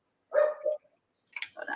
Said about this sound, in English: now he's barking